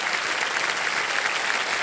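Studio audience on the KBC Season 17 quiz show set applauding for a contestant, a dense, steady wash of many hands clapping at close range with no voices over it.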